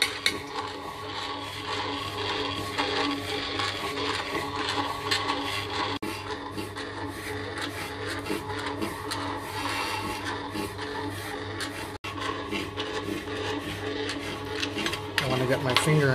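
A Princess breadmaker's paddle churns bread dough in a steady, rhythmic mechanical whir and rubbing scrape, continuing evenly throughout with a person talking over it.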